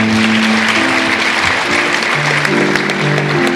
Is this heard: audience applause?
yes